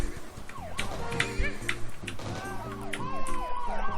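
A police car siren from a Flash video game wails in short, repeated electronic sweeps amid busy game effects, loud and close, with no one talking over it.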